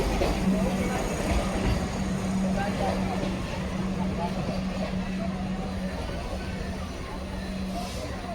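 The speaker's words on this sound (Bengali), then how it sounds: "তো ফাইনালি আমাদের ট্রেন এখন ছেড়ে দিল রামপুরহাট স্টেশন থেকে।" A Rampurhat–Gaya passenger train pulls away from Rampurhat station, heard from on board as a steady low rumble with a faint humming tone, while people talk throughout.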